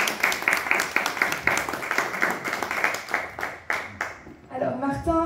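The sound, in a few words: audience applause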